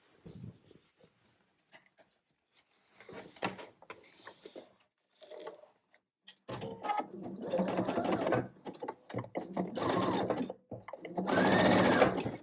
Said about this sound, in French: je viens faire un petit zigzag sur le bord ou un passage à la surjeteuse